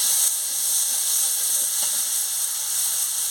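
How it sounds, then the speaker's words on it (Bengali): Pointed gourd fries with watery poppy seed paste in a pan, making a loud, continuous hiss close by that holds steady throughout, with no voices. "পোস্ত বাটার জলটা দিয়ে ভালো করে আমি ভেজে নিচ্ছি"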